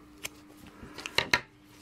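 Scissors snip crochet yarn close to the mic, making a few quick, faint clicks with a pair of sharper cuts near the end in an otherwise quiet room.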